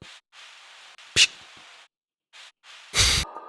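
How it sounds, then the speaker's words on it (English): Knocks on a saxophone, processed with saturation and EQ into sci-fi game sound effects: hissy airy noise bursts, one sharp knock near the middle and a louder, thicker thump near the end. "I was just knocking the sax."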